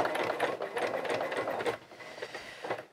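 Sewing machine stitching around the seams of a child's coverall, a fast rattling run of needle strokes that slows and stutters near the end, close and moderately loud.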